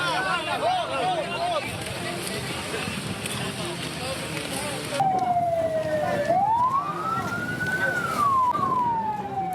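An ambulance is stuck on a road blocked by protesting truck drivers. Its siren wails and sweeps up and down, growing louder partway through, over crowd chatter and street noise.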